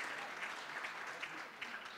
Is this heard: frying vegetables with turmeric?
no